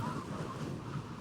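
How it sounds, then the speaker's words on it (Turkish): Soft, steady wind blowing in Minecraft with a low rumbling hiss, continuous and fairly faint, with no voices. "Acayip hoşuma gitti yani şu rüzgar sesi falan."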